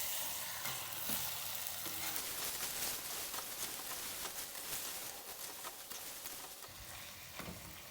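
Chili powder and spices being stirred into mutton curry in a pan for Himachali mutton rara: continuous loud sizzling and frying with intermittent scraping of the spoon, no talking.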